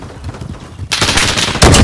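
Rapid automatic gunfire in Modern Warfare bursts in loud and close after a quieter opening, rattling in sustained volleys with a second harder burst near the end.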